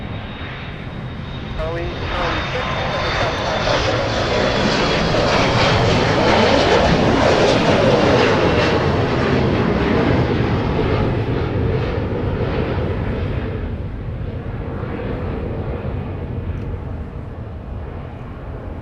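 An Alaska Airlines jet takes off from runway 30 right at Minneapolis–Saint Paul airport, a loud sustained engine roar swelling and then slowly easing as it climbs away, with brief radio talk over it.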